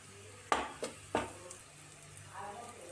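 Masala for egg bhurji fries in a pan, giving a quiet sizzle with a few brief stirring scrapes in a sparse, soft rhythm and no talk.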